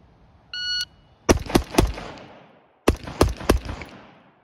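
Two rapid strings of carbine shots on a qualification range, three sharp cracks each with a trailing echo, loud and close, with a short electronic timer beep before the first string.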